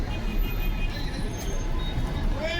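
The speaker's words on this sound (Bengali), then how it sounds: "এই যে ওমরার বাস যাইতেছে" A large Umrah pilgrim bus rolls past on a busy road in Dammam, Saudi Arabia, its steady engine rumble and tyre roar filling the scene amid general traffic noise, with a brief air-brake hiss.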